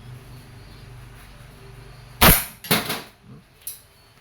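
WinGun 708 airsoft revolver fired single action with steel BBs: one sharp loud crack followed by two more snappy bursts and a smaller pop, close and alone over low background hum.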